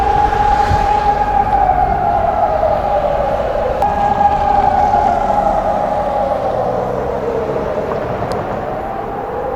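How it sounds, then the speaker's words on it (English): Loud sirens wail and rise and fall continuously in a Kharkiv, Ukraine city street, their long sweeping tones echoing between buildings with a constant background rumble. "it's kind of scary with these sirens just walking next to these buildings"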